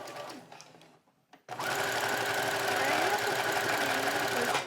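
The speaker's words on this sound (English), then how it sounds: "the needle just kept stabbing in and out and not pulling the fabric" Sewing machine stitching a buttonhole with a buttonhole foot, the needle stabbing in and out without pulling the fabric; after brief quieter talk and a pause, a loud steady mechanical whir runs continuously to the end.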